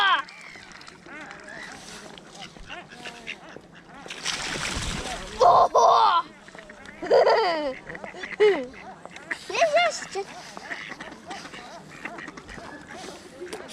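Ducks quack repeatedly in short bursts at a lakeside while geese join in, with splashing water and people talking nearby throughout.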